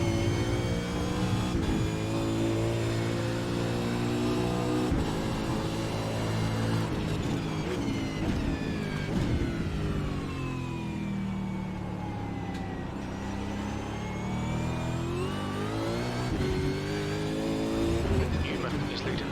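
Race cars accelerate during a race, with engines rising and falling in pitch as they pass, sustained and loud, while a commentator talks over the roar.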